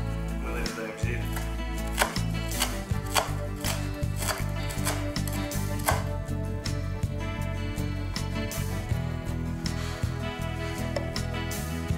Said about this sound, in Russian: Мы нарезаем зелень